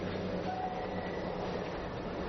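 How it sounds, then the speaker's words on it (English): A narrow-gauge train on Taiwan's Alishan Forest Railway, a mountain line built in 1912, rumbles along steadily at a moderate distance with a continuous rolling wheel noise. "the best way to view them is via the spectacular Ali Shan Forest Railway, the jewel of Taiwan's narrow gauge rail network."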